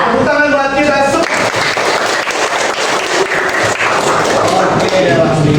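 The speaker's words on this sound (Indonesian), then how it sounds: "Tepuk tangan buat kita semua." A class of students in a classroom claps together in loud, steady applause lasting several seconds, with voices briefly heard at the start and end.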